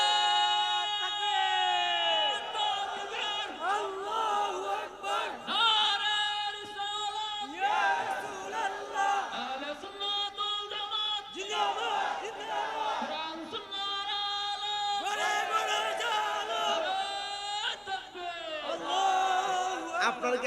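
A large crowd at an Islamic waz sermon shouts takbir in loud, repeated waves of massed voices, one surging call after another with echoing, reverberant energy throughout.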